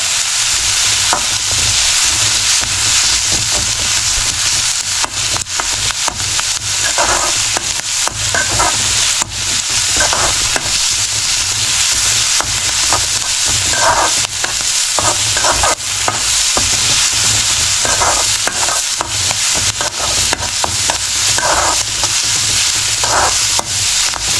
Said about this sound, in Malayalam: അതിനകത്തോട്ട് നമ്മുടെ മുളകും പിന്നെ കറിവേപ്പിലയും ഇട്ട് കൊടുക്കുക.